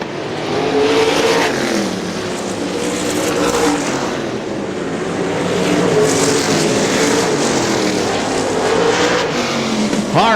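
410 sprint cars race on a dirt track at Butler Battlegrounds in Quincy, Michigan, 1999: a loud, continuous engine roar that swells and fades as the cars pass, with revving and occasional tire squeal.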